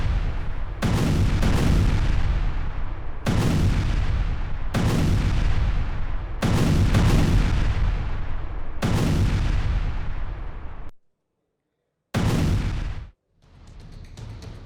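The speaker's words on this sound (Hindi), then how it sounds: "उत्तरी हवरीलिव्का में भीषण बमबारी हुई है।" Heavy bombing in a Russian air strike on northern Havrylivka, Ukraine, booms out in a series of loud, close blasts, each followed by a long rolling decay, then a brief silence before another blast.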